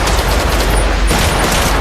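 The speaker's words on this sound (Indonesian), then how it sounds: "Selanjutnya menyerang Pruek dengan tembakan dari lantai atas" Loud, dense gunfire crackles continuously in a rapid barrage, close and harsh with heavy booming.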